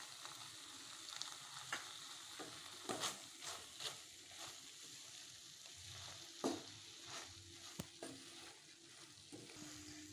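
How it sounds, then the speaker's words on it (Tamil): Small dried fish frying in a pan with grated coconut, stirred with repeated scraping strokes over a soft, continuous sizzle, close and fairly quiet. "தேங்காய் பூ போட்டு நல்லா கிளறிக்கலாங்க"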